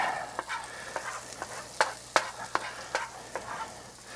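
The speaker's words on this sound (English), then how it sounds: "we have now the omelet's cooking" An omelet cooking in a skillet, a soft, low sizzle heard close, punctuated every half second or so by light scraping and tapping of a utensil against the pan.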